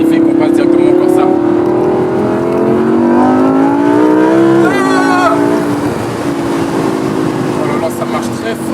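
Lamborghini Huracan Spyder in Corsa mode with its exhaust valves open, the engine revving loud and close, pitch climbing steadily before a sharp gearshift drop and a renewed rise, then settling into a sustained rumble.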